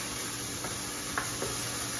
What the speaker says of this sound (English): We got a little sizzle.